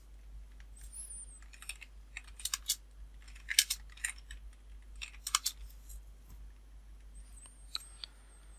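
Computer keyboard typing in irregular bursts of quick, crisp key clicks with short pauses between, fairly faint and close, with no voices.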